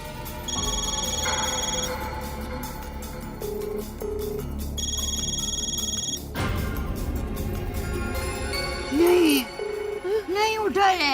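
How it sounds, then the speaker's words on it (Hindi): A telephone rings unanswered. An electronic double-ring pattern repeats several times, then gives way to a playful rising and falling ringtone-like melody, all over background music. "अब्दुल भाई फोन ही नहीं उठा रहे हैं।"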